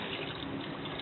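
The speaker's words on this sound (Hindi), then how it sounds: "अब हम इसमें पानी डाल के इसको रख देंगे अच्छे से पकने के लिए।" Water poured into a frying pan of browned mutton masala, a steady soft trickling wash across the whole moment, fairly quiet with no voices.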